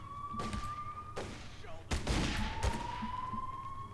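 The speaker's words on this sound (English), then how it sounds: "we are being shot at, but that's okay." Gunfire in The Godfather II crime video game: several sharp, loud shots spaced irregularly over a steady tonal background hum, with a couple of heavier cracks near the middle.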